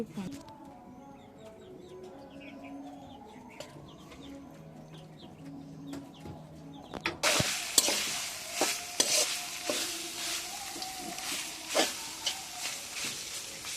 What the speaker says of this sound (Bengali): মাংসটা একদম দেখেন ঝোল টোল কিচ্ছু নাই একদম ভাজা ভাজা করে নিছি